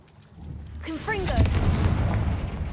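A Confringo fire-blast spell from Hogwarts Legacy whooshes out and erupts into a loud, sustained burst of roaring blast noise about a second in, then slowly fades. A voice calls out just before the blast.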